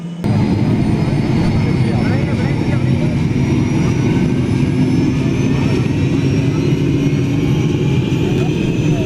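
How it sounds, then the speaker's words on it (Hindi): A helicopter engine runs steadily after starting up in Ladasar village as it prepares for takeoff, giving a loud continuous turbine roar with a rising whine that holds for the whole stretch, with speech heard over it. "हेलीकॉप्टर स्टार्ट हो चुका है।"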